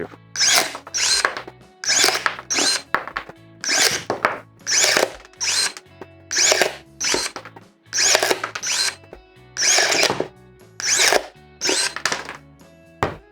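Procraft ES32Li cordless electric secateurs cut 20 mm oak plank in a run of about a dozen short motorized whirring bursts, each separated by brief pauses, close and fairly loud, with no talk.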